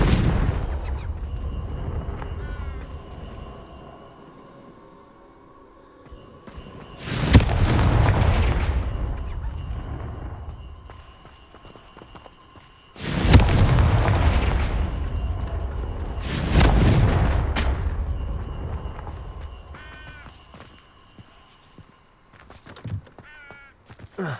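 Three Confringo spell blasts in the Hogwarts Legacy game, each a loud sudden explosion that rumbles and fades, with crows cawing in the background between them.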